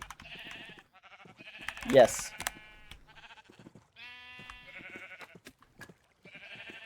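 Sheep in a blocky sandbox video game bleat several times in short wavering calls, spread across the moment and mixed with people chatting over them.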